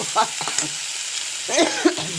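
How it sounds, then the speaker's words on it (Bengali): Shelled green peas tipped into a hot pan and stirred, giving a close sizzle with scraping and stirring strokes, with brief voice sounds in between. "মটরশুঁটি দিলাম, কতগুলো ছাড়িয়ে রেখেছি।"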